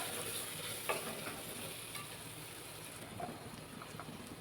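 Onion-garlic chutney being mixed into a pan of cooking food, a faint soft sizzle with light scraping stirs of a spoon, quiet and continuous with no one speaking.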